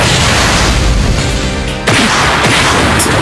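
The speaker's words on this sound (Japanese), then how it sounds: "タイプの違う爆発物を使い分けるのか。" Loud, dense explosions and blasts from a Naruto ninja battle video game, Gaara versus Deidara in Ultimate Ninja Impact, a continuous roaring barrage with a sharp fresh burst partway through.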